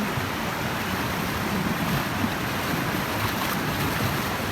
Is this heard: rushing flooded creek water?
yes